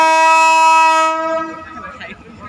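A train horn blares loud and close in one long sustained chord, then cuts off, leaving rumbling rail noise and faint clatter as the train rolls on.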